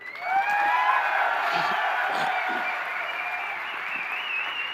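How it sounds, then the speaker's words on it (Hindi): Sustained applause from a large crowd at a welcoming event for a victory chariot procession in Kota, steady and full throughout with a few whistles and cheers riding on top. "कितनी ताली बजनी चाहिए?"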